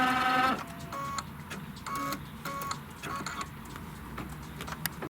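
An embroidery machine stitches a fabric placement line, giving a steady run of quick mechanical ticks and clicks with a brief louder whir at the start, at close range and without talk.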